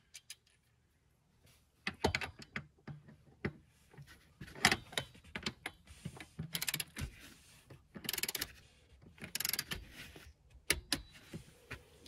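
Torque wrench tightening seat-lift bolts on a Toyota Tundra or Sequoia seat, giving a run of sharp metallic clicks and ratcheting taps in uneven bursts, close and fairly quiet, with no talk.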